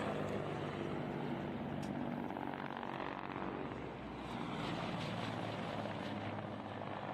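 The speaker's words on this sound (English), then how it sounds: "There's once again the video of the Mi-24s flying over, having completed their mission." Russian Mi-24 attack helicopters flying over after a raid, a steady loud broadband rotor and engine roar that holds throughout with a slight dip midway.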